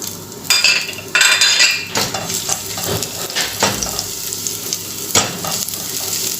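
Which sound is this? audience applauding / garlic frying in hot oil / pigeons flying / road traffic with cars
garlic frying in hot oil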